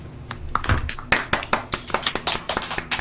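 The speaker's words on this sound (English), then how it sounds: "Can we get a round of applause for everybody?" A handful of people clap in a sparse, uneven round of applause, sharp individual claps close to the microphone over a few seconds.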